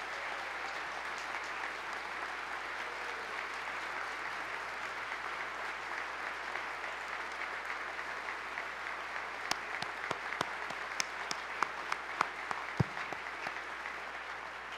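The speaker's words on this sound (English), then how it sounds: "Let's give them a round of applause." An audience applauds two visiting sisters from a church ministry at a public address, with steady, full clapping that continues throughout and a few sharper individual claps standing out toward the end.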